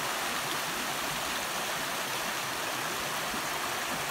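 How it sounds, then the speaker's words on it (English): A waterfall and stream rush with a steady, full broadband roar, close and constant with no breaks. "now we can see the waterfall."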